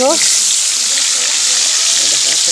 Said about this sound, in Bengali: মশলা মাছটা ভাজা হচ্ছে